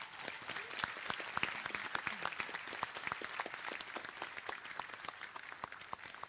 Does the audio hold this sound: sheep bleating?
no